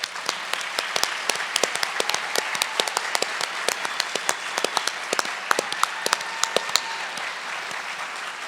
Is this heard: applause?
yes